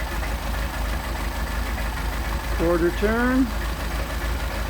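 A Solex-carbureted engine idles steadily after an idle screw adjustment, a low continuous rumble running throughout, with a person speaking briefly over it partway through.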